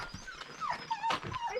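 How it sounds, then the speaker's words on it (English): Dogs readying for a bull drive toward the mountains give short whimpers and yips, fairly close, with a faint growl underneath over a brief stretch. "The dogs are ready though, aren't they, Corey?"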